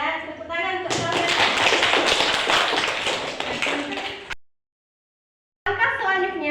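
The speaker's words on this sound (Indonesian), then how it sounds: "Tepuk tangan untuk kalian." A classroom of students claps for about three seconds, a dense burst of hand claps that cuts off abruptly. A teacher's voice is heard before and after.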